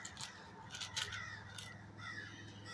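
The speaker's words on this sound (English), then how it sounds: "You're going to be hearing the birds" Birds, most likely crows, call outdoors beyond a room where glass and frosted beads are being sorted for jewelry making. The harsh caws are faint and intermittent over a steady low background hum.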